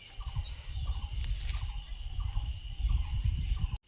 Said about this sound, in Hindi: और मैंने इस घर में नीचे मुर्गे भी रखे हैं।